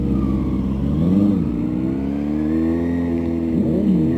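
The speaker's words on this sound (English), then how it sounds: "Got to get those revs up." Car engine revving during a driving lesson, a close, steady mid-pitched drone that rises and dips a few times, with no talk over it.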